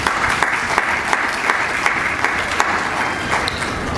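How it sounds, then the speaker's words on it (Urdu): A Sunday church congregation applauds, a dense, steady clapping that fills the room loudly for the whole stretch with no pauses. "تالیاں بجا دیں ان کے لیے"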